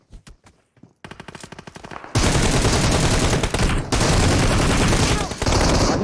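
Gunfire in the mobile battle royale game PUBG Mobile: a few separate shots, then quick bursts of rapid fire that give way to dense continuous shooting and loud in-game noise, with short breaks.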